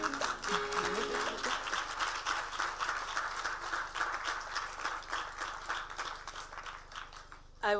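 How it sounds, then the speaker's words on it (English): Applause from an outdoor crowd at a groundbreaking ceremony, steady and dense for several seconds with voices mixed in underneath, ending with a brief louder burst. "Another round of applause"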